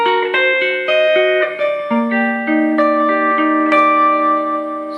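A guitar étude in 12/8 is played in a quarter note triplet feel, clean plucked notes and chords ringing out with reverb in an even, lilting rhythm, close and loud with no talking.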